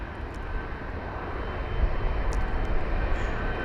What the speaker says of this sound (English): this Aero Mexico 7879 Dreamliner with the reg X-ray Alpha Alpha Delta Delta, arriving from Mexico City